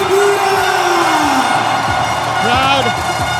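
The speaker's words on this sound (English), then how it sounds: "Crowd on its feet." A basketball crowd at a CLS Knights vs Singapore Slingers final game roars and cheers on its feet, loud and continuous, with whoops and shouts rising and a commentator talking over it.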